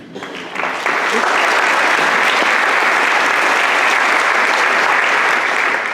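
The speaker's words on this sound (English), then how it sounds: "I think these people are the ones who deserve a round of applause, as well as you and your parents" A ceremony audience at a scholarship night gives a round of applause, steady and full from near the start to the end, honouring students, their parents and supporters before the awards begin.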